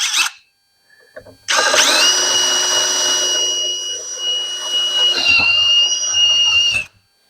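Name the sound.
power drill enlarging a hole to 5/8 inch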